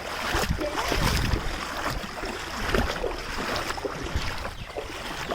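Strong current of a rain-flooded stream rushing past, a broad steady wash of water noise with turbulent surges, loud and continuous throughout.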